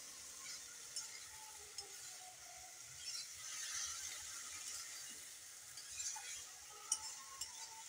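Small fish stirred into an ash gourd curry in a pan, giving a quiet, continuous sizzle with occasional light clinks and scrapes of the spoon, and no talking.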